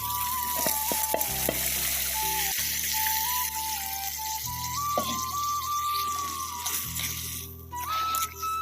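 Ginger, chilli and spice masala frying in a pan, a continuous close sizzle with stirring scrapes and a steady high whine running underneath.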